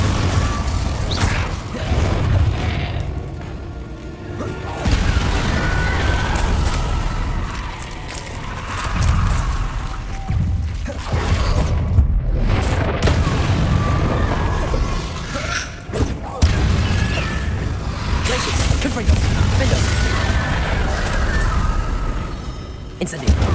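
Spell blasts and impacts from combat in the video game Hogwarts Legacy: dense, continuous thumps, booms and crashing bursts with rumbling low end, sustained for the whole stretch, with occasional voices mixed in.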